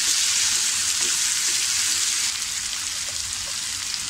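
Tomatoes for egg bhurji sauté in hot oil in a pan, giving a loud, steady hissing sizzle close by that eases slightly toward the end.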